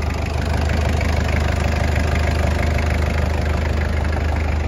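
A 1995 Toyota Land Cruiser with a 1KZ-T turbo diesel and a simple custom side exhaust idles steadily and close, a continuous low rumbling drone with a faint knocking texture and no talk.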